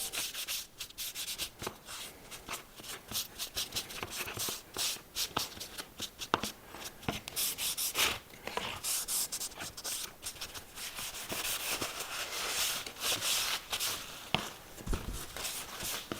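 Cloth rubbing stain onto an oak barrel stave, a steady dry scrubbing and wiping with quick repeated strokes, close and continuous throughout with no talking.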